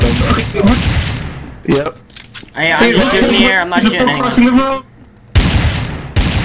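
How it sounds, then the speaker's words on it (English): Gunfire in Garry's Mod, a burst of rapid shots up front and another loud volley at the end, with a player's voice talking in between. "I'm just shooting the air, it's no one else, I swear"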